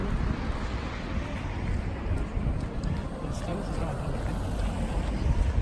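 Strong wind blows outdoors, a constant close rumbling roar buffeting the microphone that holds for the whole stretch without letting up.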